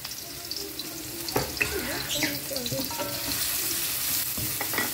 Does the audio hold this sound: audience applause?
no